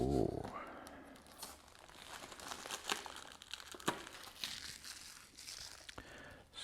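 Protective film crinkling and tearing as it is peeled off a new Yeswelder LYG-Q800D welding helmet, close, quiet, with irregular crackles and sharp snaps over several seconds.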